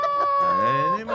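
A rooster crows once, close and loud, a drawn-out tonal call that rises and then tails off.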